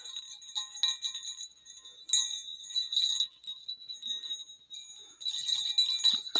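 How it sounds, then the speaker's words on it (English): A small bell on a knitted Christmas hat jingles close up in light, irregular bursts of tinkling against near silence. "It's a hat. And it's got a little bell."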